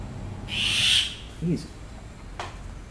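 A bird perched on a rooftop gives a single loud, owl-like call, followed by a brief lower sound and a faint later chirp over quiet outdoor background.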